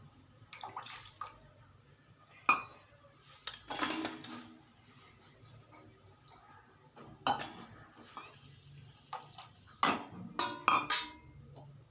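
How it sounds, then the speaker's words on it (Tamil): Palm jaggery halva with coconut milk is stirred in a pan, giving intermittent scrapes and clinks of a utensil against metal, separated by quieter pauses with a faint low background hum. "கருப்பட்டி தண்ணியோட தேங்காய் பாலையும் போட்டு கிண்டிக்கிட்டே இருக்கணும்"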